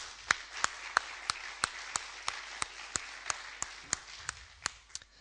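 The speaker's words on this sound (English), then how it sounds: "Can we get an applause for those people?" Audience applause at an openSUSE conference talk, made of sparse, evenly spaced sharp claps rather than a dense ovation, with about a dozen distinct hand claps over a few seconds against a quiet hall.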